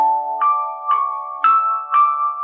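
Solo piano plays the opening four measures of a theme from Final Fantasy VII, a sustained low chord with soft melody notes entering at a slow, even pace, alone with no talking.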